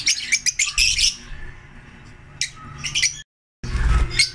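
Bursts of sharp, high bird chirps and harsh squawks, close and loud, coming in clusters separated by short quiet gaps.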